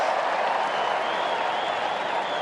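A large crowd at an Australian football match between North Melbourne and West Coast roars in anticipation, a continuous loud wash of cheering and clapping filling a stadium without pause.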